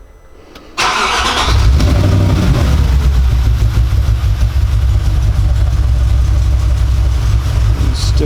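An Audi's engine turns over at about one second and settles into a loud, steady idle with a low rumble and a faint rough edge, continuous to the end.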